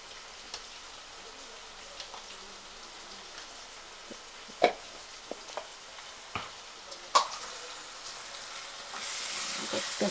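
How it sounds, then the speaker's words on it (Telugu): Ginger garlic paste frying in a pan for chicken fry, a soft steady sizzle with scattered pops and a few spoon taps, the sizzle swelling louder near the end. "దీంట్లో ఒక స్పూన్ అల్లం వెల్లుల్లి పేస్ట్ వేసుకుందాం."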